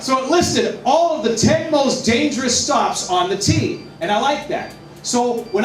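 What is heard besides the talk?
No everyday noises stand out.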